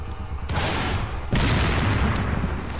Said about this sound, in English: best thing to do is just wait just right here until they pop off a couple shots